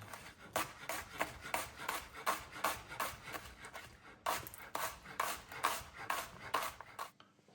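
A knife chops banana shallots on a board in steady, evenly spaced strokes, close and crisp, with a short pause midway before the rhythmic cutting resumes.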